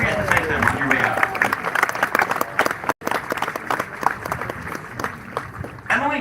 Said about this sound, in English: give a big round of applause for all of the teachers who have helped us reach this momentous milestone